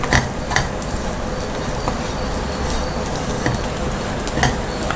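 Desiccated coconut roasts in a dry pan, a dense, loud rustling hiss with a spatula scraping and tapping now and then, close and continuous.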